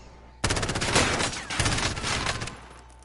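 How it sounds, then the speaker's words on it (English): A loud, rapid burst of automatic gunfire in Warzone aimed at the player, sustained rattling shots that stop and restart after a brief break, close and dominant. "Someone shooting at me for sure."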